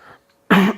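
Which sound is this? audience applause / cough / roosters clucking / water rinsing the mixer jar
cough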